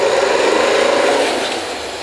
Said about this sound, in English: Using the chain and the tongs in combination to tighten up the pipe.